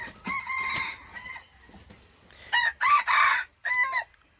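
A jungle fowl rooster crows on a farm. The calls come in loud, close bursts with clucking between them, set against quiet background stretches.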